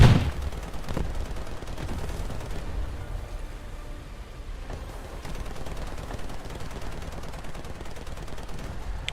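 Naval ship guns fire in a video game: a loud opening report followed by a steady low rumbling barrage of rapid gunfire and distant booms that rolls on without pause.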